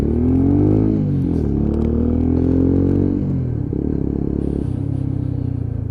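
A Lexmoto ZSX-F 125 motorcycle idles smoothly at about 1500 to 1800 RPM, a close, steady buzzing putter whose pitch wavers and dips slightly with small throttle changes.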